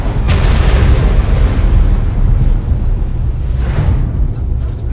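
A missile detonates in the mobile strategy game C&C Rivals, producing a loud, deep booming rumble that holds for several seconds before fading slightly.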